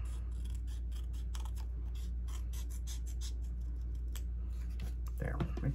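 Scissors snip through a paper insert for a kids' journal, a quick run of close, crisp cuts and rustles over a steady low hum, with a louder flurry near the end.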